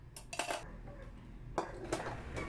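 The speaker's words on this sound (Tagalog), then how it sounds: "Sisimulan natin ang araw na to sa paghuhugas ng pinggan." Dishes being washed at a home sink in the morning: plates, pots and cutlery clatter and clink in irregular bursts, close by, with no talk.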